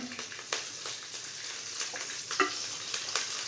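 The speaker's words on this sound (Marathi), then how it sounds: "दोन तीन पळी मी तेल ओतलेलं आहे आणि चांगले असे तळून घ्यायचे" Chillies fry in a few ladles of hot oil in a heated red kadhai, a steady crackling sizzle with scattered sharper pops and spits throughout, close and alone.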